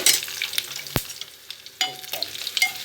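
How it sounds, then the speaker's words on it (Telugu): Spices sizzle and crackle in hot oil in a pan, with a few sharp stirring clinks and scrapes, close up and with no talking. "పెంచాలి తాలింపు ఇట్లా బాగా యాగాలి"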